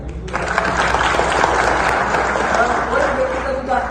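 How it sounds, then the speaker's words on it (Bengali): Dense audience applause at a seminar on planning for success, starting abruptly and holding steady as a full crowd claps with some voices mixed in. "ওনার জন্য একটা তালি দেন"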